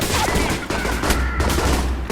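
Enemy gunfire in the stealth action video game Alpha Protocol, a dense continuous fusillade of rapid shots with bursts of machine-gun fire, loud and close throughout.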